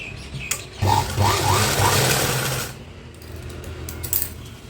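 A sewing machine runs in one steady burst, stitching a double row of topstitching around the lined neckline of a small girl's crop-top blouse, then winds down into quieter handling noise.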